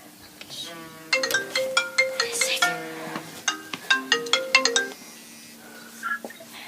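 A melodic phone ringtone plays in clear repeated tonal phrases, ringing through a short pattern before trailing off into quiet.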